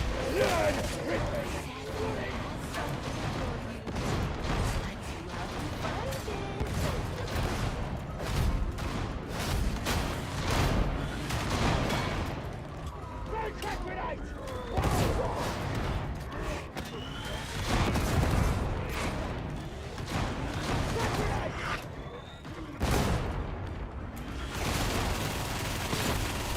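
Dense, continuous gunfire from a swarm of gunners in the video game Darktide, chaotic bursts and crashes layered throughout, with a player talking over the combat.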